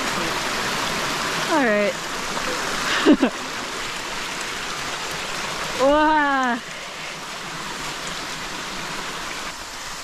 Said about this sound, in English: So many new waterfalls.